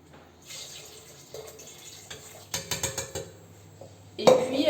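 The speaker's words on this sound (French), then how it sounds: "On va maintenant ajouter les légumes qu'on a préalablement découpés." Chopped vegetables for a squash soup tipped into a pot of water, a soft wet splashing and clatter of pieces against metal building toward a louder splash at the end, close and without talk.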